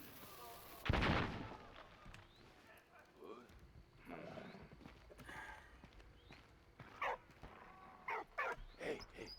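A dog barks in the World War I trench game Valiant Hearts, short yelps scattered through the scene after a loud opening blast, with battle sounds around it.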